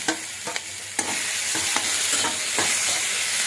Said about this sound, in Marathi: टोमॅटो सुद्धा असेच आपण व्यवस्थित चांगले नरम पडेपर्यंत परतून घेणार आहोत।